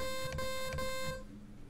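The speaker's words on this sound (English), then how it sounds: "the 3x OSC can do as far as a fundamental waveform is this rounded square" A steady buzzy FL Studio 3x OSC synthesizer tone with a hollow, rounded square-wave timbre holds for about a second, pulsing slightly, then cuts off into quiet.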